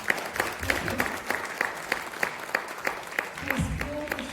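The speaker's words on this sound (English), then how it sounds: "Now that deserves a round of applause." An audience at a Bhagavad Gita talk in Frankfurt applauds steadily for several seconds. The claps are dense and even, with faint voices underneath.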